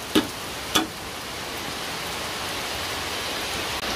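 Rain falls steadily in the hills, a smooth continuous hiss of drops on the surroundings, with two sharp knocks near the start and no voices.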